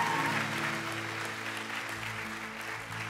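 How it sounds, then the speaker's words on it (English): A church congregation claps steadily at a Sunday service, a dense wash of applause that slowly tapers off, with a faint hum underneath. "give them one more round of applause"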